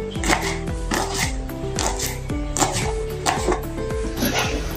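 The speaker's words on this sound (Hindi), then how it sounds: "अभी हरी मिर्च काटेंगे" Knife chopping green chillies on a board, a quick, steady run of close, crisp thuds at roughly three to four per second, loud and alone without talk.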